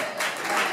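Brief applause from a comedy club audience, a short burst of many hands clapping at a fairly loud, even level.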